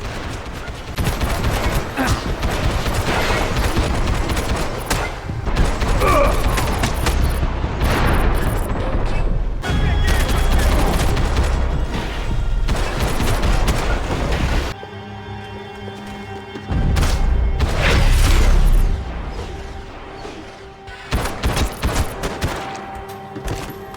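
An assault rifle shootout in Max Payne at an airsoft arena inside a São Paulo police station: dense, loud automatic gunfire and booms continue almost without pause, briefly dropping to a quieter hum before the shooting surges again.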